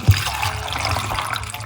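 Water poured into a blender jar holding a medium plantain, a short close splashing trickle that runs steadily for under two seconds.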